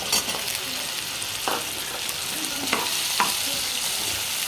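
Colocasia (taro) pieces sizzle and fry in a pan with softening tomatoes for a tamarind pulusu, with a steady close hiss broken by a few soft stirring scrapes.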